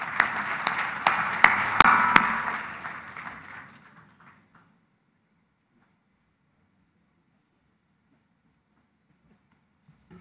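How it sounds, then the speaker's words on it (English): Audience applause at a conference on aquaculture, a dense burst of clapping that fades out within about four seconds, followed by near silence. "Sous vos applaudissements, Mesdames et Messieurs."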